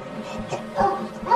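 A person imitates a dog barking, giving a few short, throaty woofs and yips in quick succession at close range.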